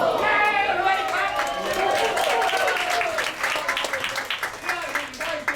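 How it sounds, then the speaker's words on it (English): Crowd at a Harding High School pep rally claps and cheers loudly and steadily, dense overlapping applause with shouts and whoops over the whole stretch, easing only slightly toward the end. "Everybody clap!"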